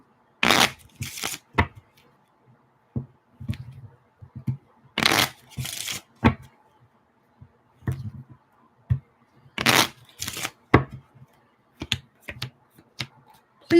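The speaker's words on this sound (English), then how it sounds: "Please hold while I shuffle my cards." Playing cards are shuffled nearby in repeated bursts of quick riffling and snapping, with short clicks and taps between them, loud and close with no talk.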